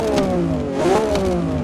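A Lamborghini Revuelto in Forza Motorsport revs briefly, a sharp high-pitched engine note swelling and falling quickly, loud and close with no voices.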